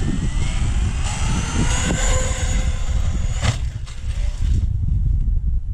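A Traxxas X-Maxx RC truck roars with a loud, harsh motor whine, broken by rough grinding bursts as its gears strip, continuous and close.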